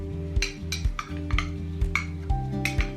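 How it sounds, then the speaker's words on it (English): A spoon stirs mug quiche ingredients with a quartered cherry tomato, clinking sharply against the mug about seven times in a steady rhythm, close and clear with no talk. "And then you want to mix that all together."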